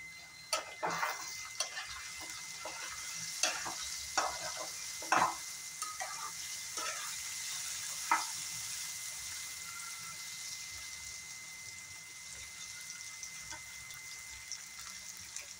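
Potatoes, tomatoes and onions fry in a pan with green chillies added, giving a steady sizzle with scattered clicks and scraping stirs, close and moderately quiet, with no talking.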